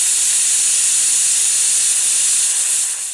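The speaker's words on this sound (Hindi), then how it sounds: "इस कुकर की सीटी से" A pressure cooker whistle: a steady, loud hiss of escaping steam, sustained throughout, fading slightly at the very end.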